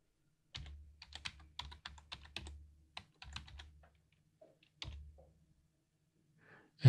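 Password being typed on a computer keyboard while logging into a CentOS server over SSH with PuTTY: quick bursts of close, crisp keystrokes with short pauses between groups, and no talking.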